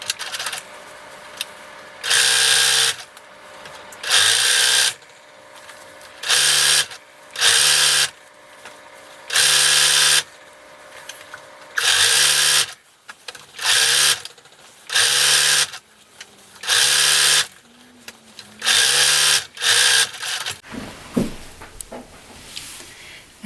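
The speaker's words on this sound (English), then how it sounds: "you sew with a zigzag, and you'll see it from the front" A sewing machine zigzag stitching elastic into upcycled T-shirt leggings, with repeated loud, close bursts of rapid whirring stitching separated by short pauses, about a dozen runs in a stop-start rhythm, no talking.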